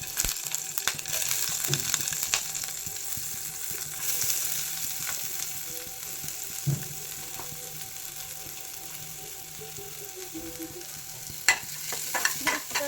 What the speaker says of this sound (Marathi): त्याच्यामध्ये टाकूया मोहरी, नंतर कढीपत्ता